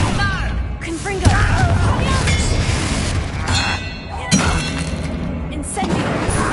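In Hogwarts Legacy, the Confringo explosive spell goes off in a dense barrage of booms, crashes and shattering clinks, layered under excited talking.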